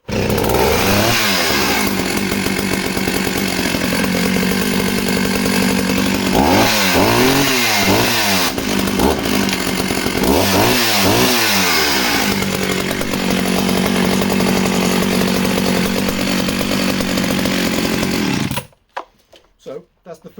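A loud 1980 65 cc chainsaw engine runs steadily near the listener, revving sharply twice in quick bursts before cutting off abruptly near the end.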